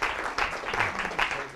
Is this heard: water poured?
no